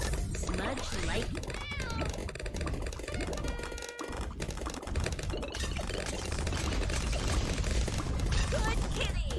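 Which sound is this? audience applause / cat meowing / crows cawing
cat meowing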